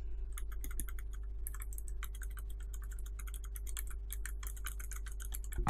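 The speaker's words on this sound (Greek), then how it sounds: "διακόπτες που έχουν βάση μεμβράνη και ένα μικρό κλικ διακοπτάκι στο πλάι ώστε να ακούγεται ο θόρυβος" Rapid clicky typing on a Razer Ornata Chroma membrane keyboard with small click switches, close and steady, with bursts of crisp key clicks over a low constant hum.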